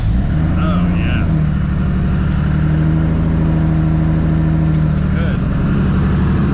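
A car engine running just after starting on a new battery, a steady close idle rumble that dips briefly near the end, with people talking over it.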